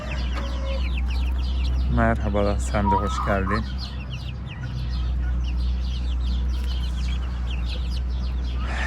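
Several mother hens cluck around their chicks in a rural village yard, with a short burst of close clucking standing out over a steady low hum, while people talk nearby.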